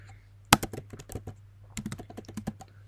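Computer keyboard typing as C++ code is entered, two quick bursts of close key clicks separated by a short pause, with one louder thunk near the start.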